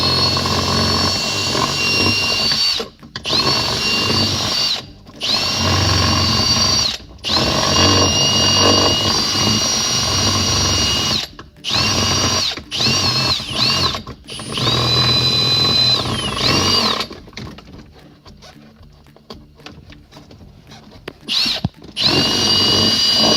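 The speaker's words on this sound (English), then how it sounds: "I'm just going to come around with another drill bit and kind of grind out a little bit of that plastic" A power drill bit grinds out plastic inside a Toyota Prius V dashboard in loud, whining bursts of a few seconds each, separated by short pauses, with a longer quiet stretch near the end before it starts again.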